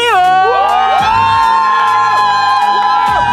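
Audience at a kids' rap battle cheers and whoops for one contestant, a loud sustained crowd roar with shrill whistles and shouts that runs unbroken throughout.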